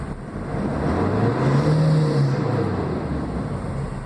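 A 2008 Nissan Frontier 2.5 engine is revved to about 4,500 RPM while the truck sits parked, rising to a loud, strained roar that holds for a couple of seconds and then eases back toward idle.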